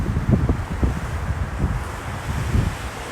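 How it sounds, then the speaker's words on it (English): Strong afternoon wind roars outdoors beside a toppled tree near condos, buffeting the microphone in continuous low gusts with no voices. "as you can see, the wind is still strong this afternoon"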